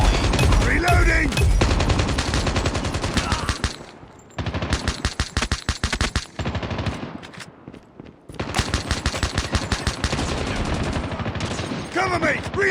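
Rapid, loud gunfire in the mobile shooter COD Mobile, with long bursts of quick shots, brief pauses between bursts, and game voice callouts mixed in.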